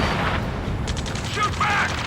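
Gunfire crackles in the Ace Combat 7 mission Lighthouse Keeper, with rapid shots and mechanical clatter under a busy battle mix, while shouted voices break in briefly.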